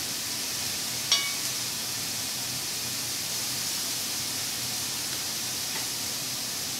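A sausage patty fries in a preheated pan on a gas stove over medium heat, giving a steady, even sizzle with a faint crackle or two.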